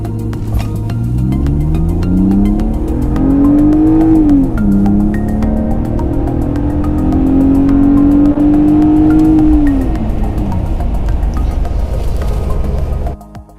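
A 13-year-old BMW E46 with underdrive pulleys and 141,000 miles accelerates hard from 0 to 60, its engine climbing in pitch through the gears with brief dips at each shift before cutting off at the end.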